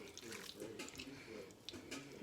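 Tap water runs steadily into a kitchen sink for hand washing, a continuous close splashing hiss with small fluctuations as hands move under the stream.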